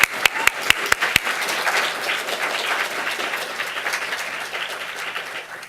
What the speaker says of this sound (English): just one round of applause for that.